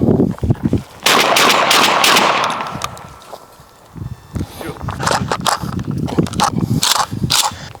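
Rapid 12-gauge shotgun mag dump into exploding watermelons at South Texas Guns, a burst of loud, closely spaced blasts up front, then scattered shots returning later amid talk and movement.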